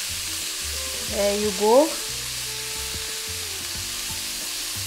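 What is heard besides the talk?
cabbage thoran sizzling while being stirred in pan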